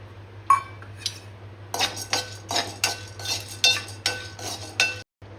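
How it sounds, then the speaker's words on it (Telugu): Sesame seeds being lightly fried in a pan for homemade kobbari laddu are stirred with a metal utensil, which gives a run of rhythmic scraping clinks against the pan over a low hum that cuts out briefly near the end, with no talk. "ఈ నువ్వులని కూడా లైట్గా ఫ్రై చేసుకోండి"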